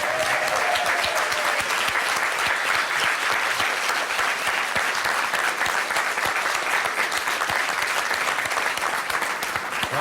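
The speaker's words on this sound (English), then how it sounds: "Once more, ladies and gentlemen, let's hear it for Mike Reid, B.E.M." A crowd at a British Empire Medal presentation for Mike Reid applauds loudly and continuously for about ten seconds, a dense, sustained clatter of many hands that holds steady throughout.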